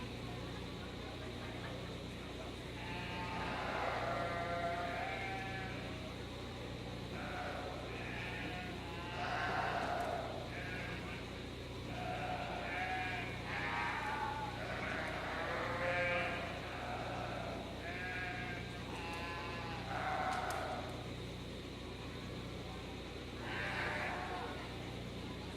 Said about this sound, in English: Coming out into the ring at this time are your first place lambs